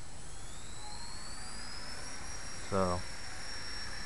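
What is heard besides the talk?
RC helicopter with 3-axis gyro at full speed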